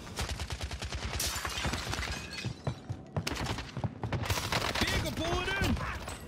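Rapid, dense bursts of automatic gunfire in Call of Duty: Warzone rattle almost continuously with sharp cracks and a shattering impact, while a voice shouts over the shooting.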